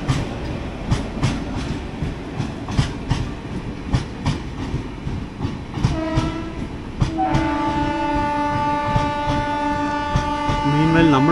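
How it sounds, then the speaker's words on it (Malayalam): Chennai Egmore–Madurai Vaigai Express, hauled by a Royapuram-shed locomotive, rumbling past close by with rhythmic clattering wheel beats, then sustained tonal horn-like notes building loudly toward the end. "ചെന്നൈ എഗ്മോർ മധുരൈ വൈഗ എക്സ്പ്രസ് ആണത്."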